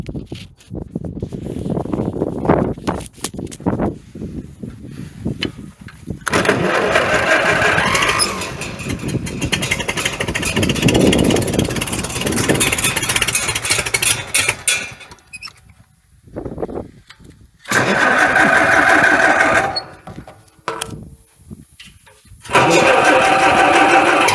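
A Farmall H tractor engine is started with the choke pulled after sitting all winter, cranking and sputtering in bursts before catching and running loudly, with breaks between the attempts.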